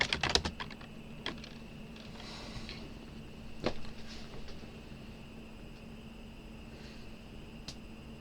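Fast, light keystrokes on a computer keyboard as a command is entered, a close burst of clicks at the start, then scattered taps with quiet pauses between.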